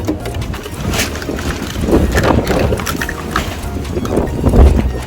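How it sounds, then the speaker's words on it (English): Strong gusty wind buffets the microphone outdoors in a garden, a loud rushing roar that swells and dips throughout without a break. "Wow, the wind is going crazy."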